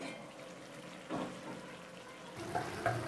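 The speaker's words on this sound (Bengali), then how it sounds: "এবার জল দিয়ে দিব, মানে ঝোলের মাপে" Water poured into frying spices for a potato and pointed gourd curry, a soft hiss and splash rising from the pan, fairly faint and close, with a brief louder burst near the end.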